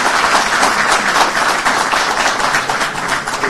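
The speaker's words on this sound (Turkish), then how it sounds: "burada kuvvetli bir alkışla" Strong, dense applause from a Galatasaray club audience, a loud continuous roar of many hands clapping at once, steady with no pause.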